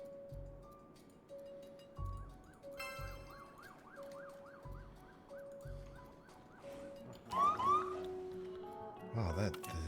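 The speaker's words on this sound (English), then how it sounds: "Wow, the ambulance is going nuts." A wailing ambulance siren from the hospital management game Project Hospital, repeating rising and falling tones over pulsing low thumps, with bursts of other game effects near the end.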